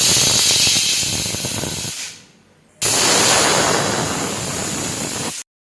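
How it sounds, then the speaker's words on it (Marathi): Steam hisses loudly and steadily from a pressure cooker of green moong after two whistles. It breaks off into near silence for about a second, then rushes back just as strong before cutting out. "आता कुकरची पूर्ण वाफ जाऊ द्यायची"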